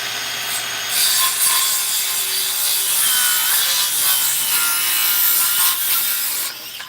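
Circular saw cutting through a wooden board while building a larger scaffolding sawhorse; a loud, steady high-pitched whine and rasp of the blade close by for several seconds, then it tapers off at the end.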